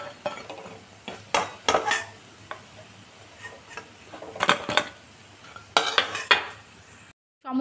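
Fried papaya fritters lifted from a pan, heard as intermittent close metallic scrapes and clinks of a utensil against the pan over a faint background sizzle.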